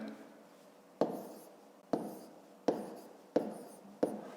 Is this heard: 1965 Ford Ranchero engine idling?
no